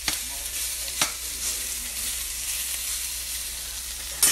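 Chicken pieces browning in a pan for penne vodka give off a steady, close, broadband sizzle, with a couple of faint clicks near the start and end and no talking.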